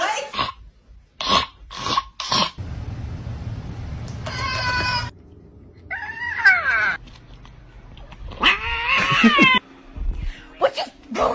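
A cat meows and yowls in several sharp, loud calls, some drawn-out caterwauls between short cries, with a person speaking briefly around them.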